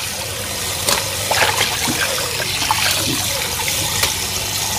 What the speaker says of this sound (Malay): Kemudian kita bilas bersih dengan air barulah.